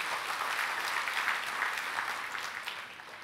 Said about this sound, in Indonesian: Oh, berikan tepuk tangan saudara.